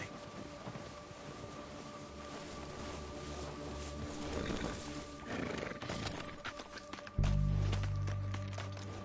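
A horse whinnies amid a steady rumbling background, hooves clopping at a walk, then a sudden low heavy thud near the end, in the video game Red Dead Redemption 2.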